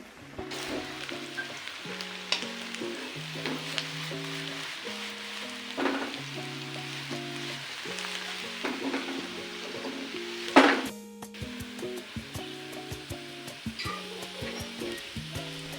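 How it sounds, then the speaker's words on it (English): Fried potatoes toasting in an oil-filled pan give a steady, close sizzle and crackle, with stirring scrapes throughout and a sharper clatter near the end, set against background music. "Now I add in fried potatoes and toast them well."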